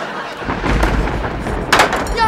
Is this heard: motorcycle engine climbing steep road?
no